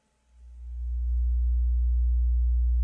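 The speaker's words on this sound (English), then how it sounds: "I want to add the frequency to 60 hertz" A pure 60 Hz sine tone for a sub kick in REAPER fades up from silence as a fader rises, then holds a steady deep hum and ends with a brief click.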